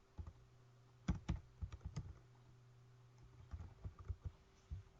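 Keys clack on a computer keyboard while a word is typed out, with quick bursts of taps and short pauses between them, close and fairly quiet against a steady low hum.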